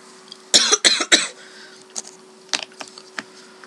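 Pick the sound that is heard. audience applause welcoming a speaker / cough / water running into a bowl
cough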